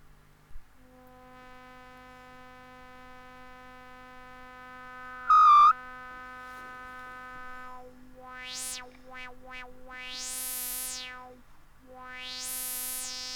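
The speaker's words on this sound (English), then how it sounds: "what happens if we turn up the resonance to just near self-oscillation?" A Korg MS-20 clone low-pass filter resonating near self-oscillation drones with a buzzy, harmonic-rich synth tone over a low hum. Its resonant peak sweeps up and down into squelchy, whistling glides, with one brief loud burst partway through.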